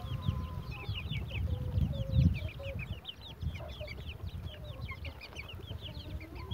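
A hen clucking low and steady while her chicks peep in a constant, busy high chatter close by, with a soft rustling rumble underneath.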